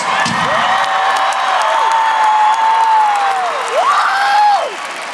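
Loud arena crowd at a Winter Jam concert applauding and cheering, with a high voice singing or whooping sustained notes over the clapping noise.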